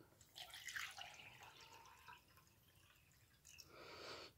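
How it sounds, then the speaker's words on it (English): Cold water poured into MRE drink powder from the Tuscan beef menu: a faint, close splashing trickle with scattered drips, fading midway and then swelling again into a brief steadier pour, with no talking. "Add some cold water."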